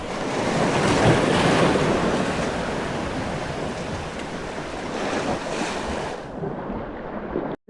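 Ocean waves surge and crash loudly against steep rocks on a Philippine shoreline while shore fishing, with gusty wind buffeting the microphone, a continuous roar that cuts off abruptly at the end.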